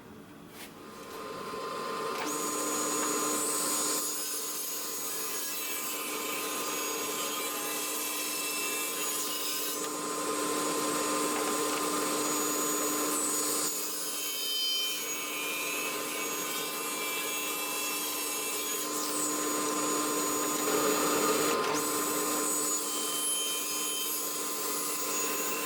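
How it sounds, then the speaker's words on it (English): A saw cuts through wood for a wooden stool seat, giving a steady, continuous rasping with brief pauses between runs of strokes, close and moderately loud. "So the saw is set. Let's start cutting"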